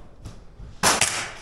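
A single sharp airsoft gun shot cracks out near the end during an airsoft game outdoors, after a brief faint thump, short and fairly close.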